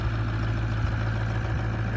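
After a cold start at 24 degrees, a 6.0 Powerstroke diesel truck engine idles with a steady, low, even rumble, close and unbroken.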